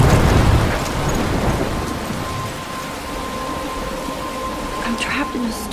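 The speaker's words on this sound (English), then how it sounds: "I'm trapped in a storm?" Game storm ambience from Life Is Strange, with steady rain hiss and low rumbling thunder swelling at the start and easing into a constant downpour, along with faint wind and scattered drops.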